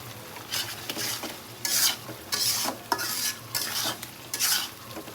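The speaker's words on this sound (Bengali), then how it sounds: "তো আলুটার মশলাটা একটু কষানো হোক ভালোভাবে।" Potatoes and spices being stir-fried in a pan for a jackfruit curry, repeated scraping strokes of a spatula over a steady sizzle, close and fairly loud in uneven bursts.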